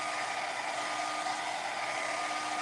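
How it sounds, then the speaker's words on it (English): A hair dryer roars steadily on high with a constant, even whoosh of air, close by and loud, with no breaks or voices. "we're going to do a little hair dryer action."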